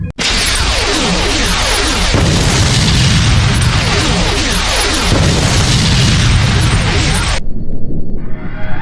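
Starship weapons fire and explosions from the film Star Trek II: The Wrath of Khan, a loud, dense roar of blasts and booms that continues without a break for several seconds before cutting off abruptly.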